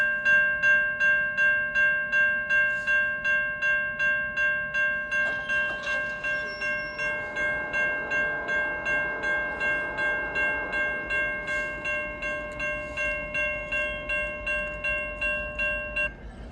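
A Norfolk Southern freight train led by locomotive 6981 rolls past nearby with a steady rhythmic clatter of wheels over rail joints, while a sustained horn-like tone holds throughout.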